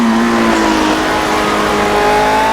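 Lotus 72 race car engine in Project Cars screaming at high revs, a loud steady whine with shifting pitch as the car accelerates, alone without talk.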